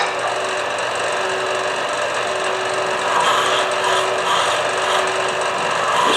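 Steady, loud rasping scrape of a turning tool cutting into a damp end-grain wood vessel during hollowing, a continuous gritty chatter that grows slightly harsher midway, with no talking.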